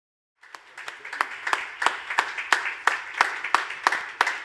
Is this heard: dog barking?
no